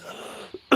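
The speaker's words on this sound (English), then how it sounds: "Being attacked by a cough." A single short cough, brief and near, following a stretch of quiet background noise.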